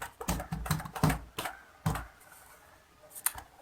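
Keystrokes tapped on a computer keyboard while entering text into a spreadsheet cell, a few quick clicks in short clustered bursts with pauses, close and fairly quiet.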